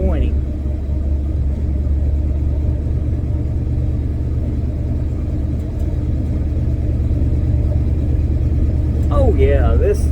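A car with a big cam and a drilled throttle body drives at about 20 in fourth gear, its low engine rumble steady and close with slight uneven surging, and a voice briefly at the end.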